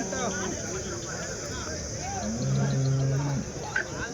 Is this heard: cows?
yes